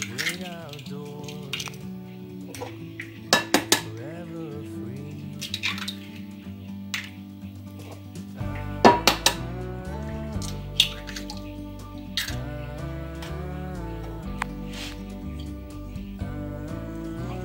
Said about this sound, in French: Alors là, on casse nos 4 œufs.